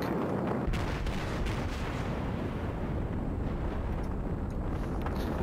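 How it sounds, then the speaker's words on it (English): Fuso battleship's front turrets fire in World of Warships, a dense, loud rolling roar of heavy naval gunfire and booming blasts that sustains without pause. "My front turrets finally came to help me."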